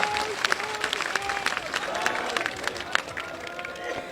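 A crowd claps at a farmers' protest speech at Kundli, a dense outdoor wash of applause lasting several seconds, with voices mixed in among the clapping.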